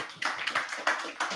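A small audience claps for a panelist at a business hangout, with a few uneven bursts of hand claps close by, some louder strikes standing out.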